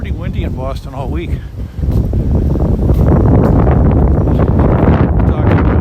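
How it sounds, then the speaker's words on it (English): Someone speaks briefly on a Boston street, then strong wind buffets the microphone with a loud, continuous low rumble that swamps everything for the rest of the clip. "it's been pretty windy in Boston all week"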